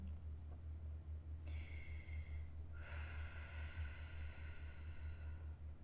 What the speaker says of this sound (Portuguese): Continua respirando fundo neste momento.